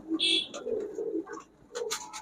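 Pigeons at a market stall coo softly in low, rolling calls, with brief higher chirps and faint background sounds around them.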